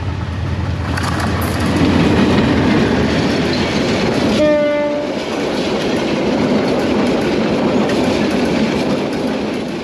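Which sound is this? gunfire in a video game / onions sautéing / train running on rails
train running on rails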